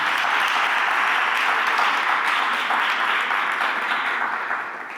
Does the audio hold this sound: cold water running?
no